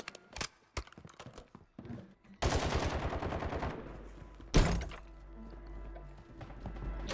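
Video game gunfire in Modern Warfare 3, with a few sharp isolated shots followed by a dense burst of rapid automatic fire and another loud blast, all fairly close.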